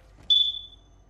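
A smoke alarm gives a single short, high electronic chirp that fades out over about half a second, heard alone in a quiet room.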